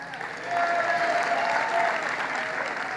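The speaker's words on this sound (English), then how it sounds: "If you had your choice of only having one, clap for the one you like best" A large crowd at a political rally in Nassau County, New York, breaks into sustained applause, swelling quickly and holding at a steady, dense roar of clapping.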